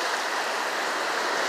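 Ocean waves wash in a steady, unbroken hiss of surf and spray, loud and even throughout, with no voices.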